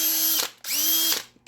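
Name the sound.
cordless screwdriver driving screws into RC car rims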